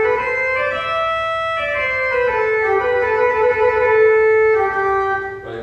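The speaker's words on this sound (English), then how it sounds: "for those of you who don't know necessarily offhand what a cornet is, it basically sounds like this" Pipe organ cornet stop, a blend of ranks at 8, 4, 2 2/3, 2 and 1 3/5 foot, plays a slow descending melody of bright, reedy, harmonic-rich sustained notes, clear and alone.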